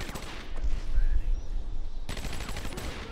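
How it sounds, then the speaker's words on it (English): Rapid gunfire rattles in a burst of shots inside the Batman Arkham Asylum video game, fairly quiet amid busy game ambience, with a brief pause before more noise resumes. "I fucking ate those gunshots."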